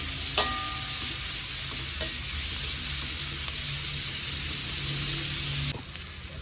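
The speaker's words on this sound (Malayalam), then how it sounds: "സവാള ചെറുതായിട്ടൊന്ന് മൂക്കണം." Chopped onions frying in a pan for a drumstick and egg stir-fry, a steady broadband sizzle with a few light stirring clicks, close and continuous until it quiets near the end.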